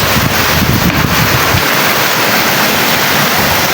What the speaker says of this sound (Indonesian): sekalinya hujan Masya Allah ini tuh deres banget dan anginnya itu kenceng